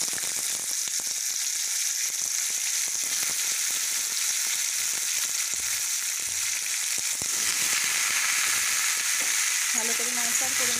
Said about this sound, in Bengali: এরপর আমি দিয়ে দিচ্ছি কেটে রাখা ঝিঙের টুকরো।